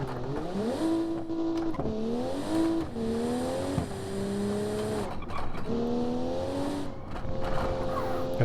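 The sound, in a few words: 1988 Bay12 Motors car engine revving, BeamNG.drive video game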